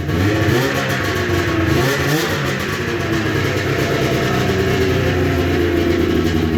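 A 1997 Ski-Doo Formula snowmobile with a Rotax 500 two-stroke engine revs loudly up close indoors, running continuously with brief throttle rises and falls.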